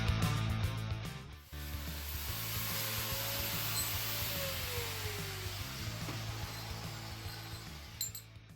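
Grinder and bandsaw cutting metal for a slammed mini quad build, a steady loud machine drone with a low hum and rising whine running continuously throughout, close by.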